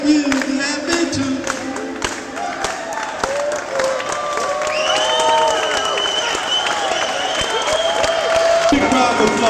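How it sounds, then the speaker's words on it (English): A concert crowd at a show applauds and cheers after a song, steady clapping mixed with whoops and shouts, while instruments keep sounding and sustained tones carry on beneath the noise. "Big round of applause, ladies and gentlemen"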